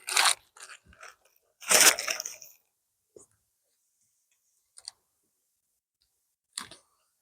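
Someone bites into a reheated hot sandwich with a patty, cheese, tomato, pickle and onion, giving two loud crunchy bites up close followed by a few faint scattered chewing sounds and near silence.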